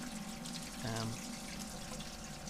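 Sparge water trickling steadily inside an electric all-in-one recirculating brewing system during a water test, a continuous close splashing flow with a short tonal gurgle partway through.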